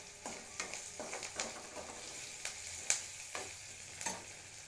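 Dry prawns fry in a pan with a soft crackling sizzle, punctuated by a series of quick spatula taps and scrapes at irregular intervals, close but fairly quiet, no voices.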